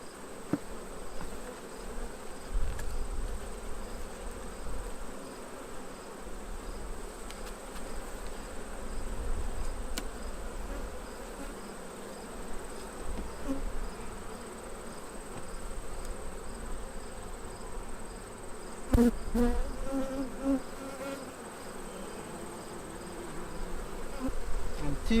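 Honey bees buzzing around an open hive during a frame inspection, a continuous dense hum of many insects close by, steady for the whole stretch with faint handling clicks.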